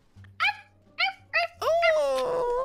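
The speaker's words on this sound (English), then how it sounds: "It's my dog." A small pet dog gives a few short high yips and whimpers in quick bursts, ending in a longer whining cry, close by with faint low background hum and no clear talk.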